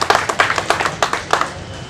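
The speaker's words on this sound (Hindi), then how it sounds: "तालियां बजा करके इस्तकबाल करें।" An audience at a Samajwadi Party gathering applauds to welcome a guest, a close, lively run of hand claps with distinct individual smacks in an uneven rhythm, briefly dominating before fading.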